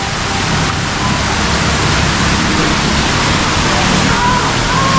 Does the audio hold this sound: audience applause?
no